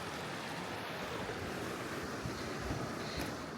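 A mountain river flowing down from Goddard Canyon in Evolution Valley on the John Muir Trail rushes steadily, a dense, continuous roar of water with no voices.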